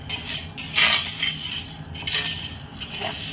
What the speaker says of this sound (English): Now that those are in, we're just going to stir them around,